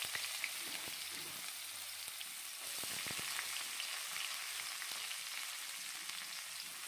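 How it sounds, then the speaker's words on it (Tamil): Chopped big onions frying in oil with tempered fennel seeds for a mutton trotter soup, a steady soft hiss of sizzling oil with a few faint stirring clicks, fairly quiet and uninterrupted. "சோம்பு தாளிச்சிட்டு கட் பண்ணி வச்சுருக்கிற பெரிய வெங்காயம் ஆட் பண்ணிக்கலாம்."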